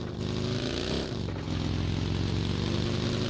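A buggy's engine drives in BGMI, a steady, loud motor drone with layered harmonics and a brief dip in pitch near the middle, running continuously with no talking.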